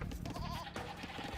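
A goat in Age of Empires II gives one short, wavering bleat, close and moderately quiet, against low game background sound.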